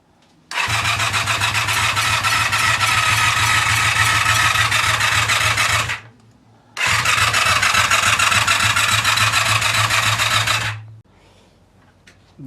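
A car engine runs steadily after being restarted, with replaced ignition coils following a no-spark fault; two sustained loud revving bursts are separated by a short drop, then the engine settles back toward an idle.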